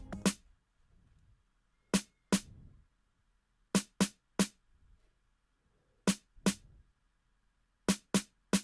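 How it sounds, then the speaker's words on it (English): A crisp snare from a chorus section of an FL Studio Afrobeat remake hits alone in sharp, isolated strikes, often in quick pairs or triplets, with faint low thumps in between. "we also have the same snare that played in the chorus part,"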